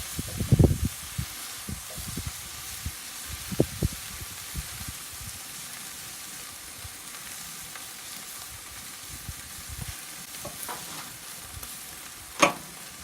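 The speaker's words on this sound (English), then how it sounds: "it is sear time for this beautiful tri-tip" Tri-tip beef sears on hot mesquite coals, giving a steady low sizzle and crackle with a few sharper pops and one loud snap near the end, with no talking.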